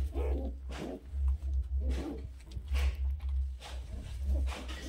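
Pigeons at a breeder's sale stall coo in low, repeated throaty phrases that rise and fall over a steady background hum, with no talking.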